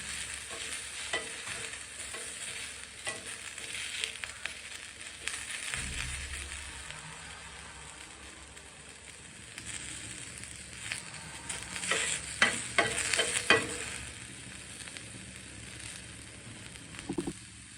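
Sliced onions sautéing in a pan for pizza dosa, a quiet steady sizzle under frequent stirring scrapes that grow busier and louder toward the end, close by and with no talking.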